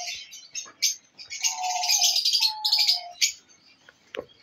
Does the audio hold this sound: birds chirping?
yes